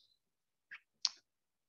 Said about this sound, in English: So I'm going to type that on my calculator.